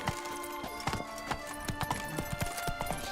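Horse hooves clip-clopping in The Witcher 3: Blood and Wine, a quick, steady rhythm of hoof strikes at moderate distance over faint ambient background.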